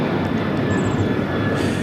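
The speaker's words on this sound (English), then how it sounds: "This is American Airlines 1899 taking off to Indianapolis on the 737-800" American Airlines Boeing 737-800 taking off from LAX, its jet engines producing a steady, loud roar with a thin high whine on top, heard in a short unbroken burst.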